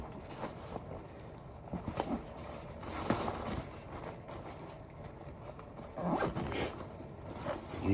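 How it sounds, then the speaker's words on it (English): A zipper on a dad's diaper bag that converts to a backpack is drawn all the way around the bag in several close, scratchy pulls, with quieter rustling and handling between them and no talking. "So you just stuff it and it zips all the way around."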